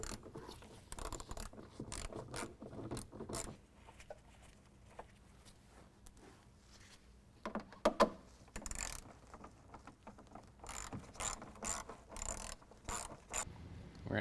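A ratchet takes out 7mm bolts inside the fender of a 2015 Ford F-150 during a front bumper install, giving quiet bursts of clicking with a few louder clunks in between.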